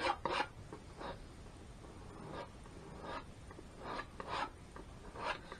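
A palette knife rasps and scrapes to clear excess oil paint during wet-on-wet landscape painting, in soft repeated strokes of uneven rhythm, faint and close, with no speech.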